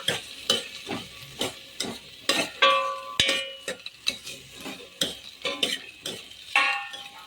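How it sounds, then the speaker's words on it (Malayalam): Turkey berries being sautéed with onions in oil, with a rhythmic series of spoon scrapes and metallic clinks against the pan over a soft sizzle, close and clear, with no speech. "ഈ ഉള്ളിയോടൊപ്പം തന്നെ അത് നന്നായിട്ട് വഴറ്റാൻ നോക്കുക."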